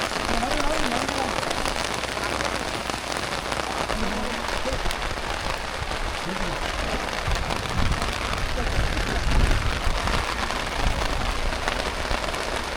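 Steady rain falls on surfaces around a newly finished house, a dense, unbroken hiss and patter that stays loud throughout, with faint voices in the background.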